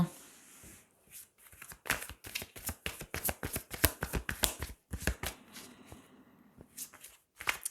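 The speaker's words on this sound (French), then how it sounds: "Je vais retirer une carte." Tarot cards being shuffled and drawn by hand, close up: dense bursts of crisp riffling and flicking snaps that come and go over several seconds, with a faint voice in the background.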